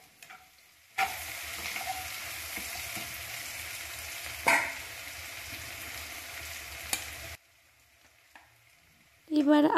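Spice paste frying in a pan over a low gas flame, a steady close sizzle with a brief stir or clatter in the middle, cutting out near the end before a short burst of noise.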